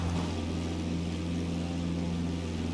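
Propeller engine of a PA-28-161 Warrior II in a flight simulator game during takeoff, a steady loud droning hum with a constant low throb and no pauses.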